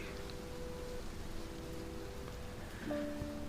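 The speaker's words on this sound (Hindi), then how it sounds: "लेकिन बारिश तेज होती गई।" Heavy rain falling in farmland countryside, a steady dense hiss at moderate level that continues without a break, with a faint tonal hum laid beneath it.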